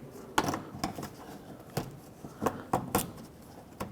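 A plastic rear mud flap is pressed onto a 2005-2010 Pontiac G6, making a handful of sharp, close plastic clicks and snaps at irregular intervals over faint handling noise.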